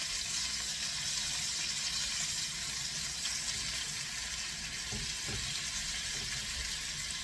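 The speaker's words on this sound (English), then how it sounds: "I'm just braising them right now" Beef neck pieces braising in a pan of butter and oil give off a steady, close sizzle and bubbling hiss that runs the whole time, with a few soft stirring clunks near the end.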